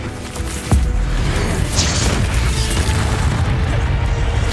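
A Bombarda explosion spell in Hogwarts Legacy lands as a heavy boom with a crashing burst, then a sustained loud rumbling roar of combat effects continues for several seconds.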